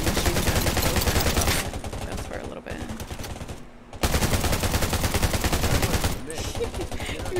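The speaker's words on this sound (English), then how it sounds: "Oh, I should be using my machine gun." Machine gun fire in the video game Undawn, with rapid sustained bursts of automatic fire, loud and close, broken by a short lull.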